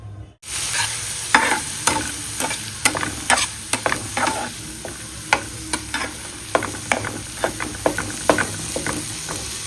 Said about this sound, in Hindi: अब इसको थोड़ी देर भूनती हूँ तेल में।